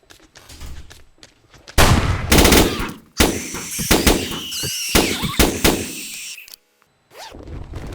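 Shotgun blasts in close-quarters combat in the video game 7 Days to Die: several sharp, loud bangs in irregular clusters with brief gaps, mixed with clattering game effects and a short silence before firing resumes.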